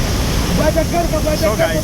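Murchison Falls, one of the most powerful waterfalls, roars as a steady broadband wash of falling water close by, with someone speaking briefly over it.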